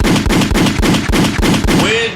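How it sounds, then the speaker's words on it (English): Gunshot sound effect: a rapid, evenly spaced burst of about eight loud, sharp shots, like automatic fire, with a brief ringing tail at the end. "gunshot"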